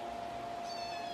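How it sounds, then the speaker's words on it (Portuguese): A tiny kitten at an animal shelter gives one high, thin meow, faint and close, over a steady background hum. "Pequenininho, um gatinho."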